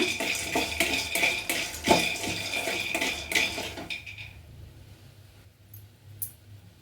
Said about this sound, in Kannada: ಇವಾಗ ನೋಡಿ ಕಡಲೆಕಾಯಿ ಬೀಜನ ಹಾಕ್ಕೊಳ್ತಾ ಇದ್ದೀನಿ ಸ್ವಲ್ಪ ಹುರ್ಕೊಳ್ಳೋಣ